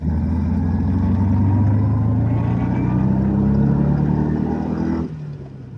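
A 1981 Subaru GL with an EJ22 engine swap drives on a road, its steady engine drone rising in pitch as it accelerates through the gears, then dropping abruptly near the end. The engine noise is loud and close, with no talking.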